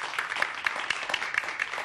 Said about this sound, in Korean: 만약 감격적이면 박수를 꼭 쳐주세요